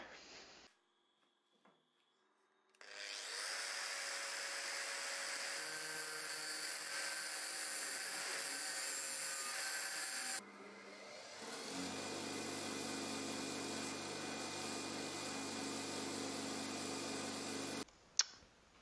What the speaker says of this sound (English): I think it's just going to be an old school grinder method.